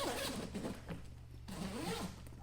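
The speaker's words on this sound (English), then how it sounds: "the zipper just flies around these curves" The zipper on a Travelpro Crew VersaPack carry-on suitcase is pulled around its curved track, giving several quick, close rasping zips with short pauses between them.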